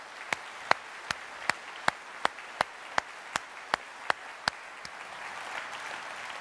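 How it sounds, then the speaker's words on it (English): A small group of listeners at an air mobility conference claps in slow, evenly spaced, distinct claps over a low murmur, fading out near the end. "So a round of applause for those folks."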